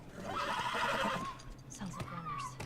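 A horse in The Last of Us video game gives a loud, drawn-out whinny followed by a shorter neigh, close by, against steady background ambience.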